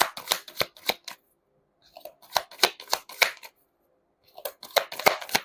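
Tarot cards are shuffled up close in quick crisp bursts of riffling snaps, each run lasting about a second, with short silent pauses between them.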